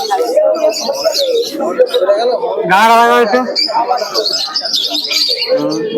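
Pigeons chirp and coo amid a busy crowd at a bird market, with people talking over them and a brief rising call breaking through in the middle.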